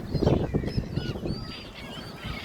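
Gulls calling repeatedly as people throw bread to them beside the Thames at Gravesend, a cluster of harsh squawks close by over a background of traffic.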